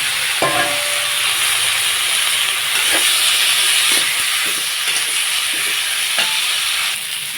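Green beans and potatoes sizzling in a pan with salt and turmeric while making a pangas fish curry, a steady loud hissing fry with occasional faint stirring knocks, no voices.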